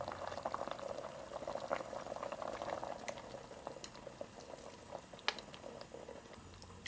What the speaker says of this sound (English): Once it starts boiling, add in all of the squid.